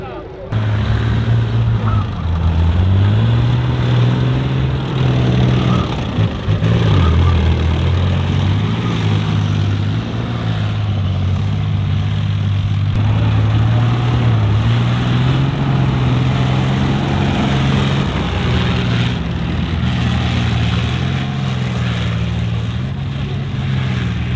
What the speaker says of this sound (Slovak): 8-valcový motor do V, rovnaký ako na známych vozidlách Tatra 603.